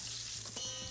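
Parsley dropped into hot oil in a pan, frying with a steady, close, fairly quiet sizzle and crackle, no talking.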